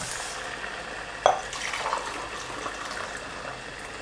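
Boiled water is poured into a pot of rice, producing a soft, continuous splashing and gurgling close by, with a small clunk near the start.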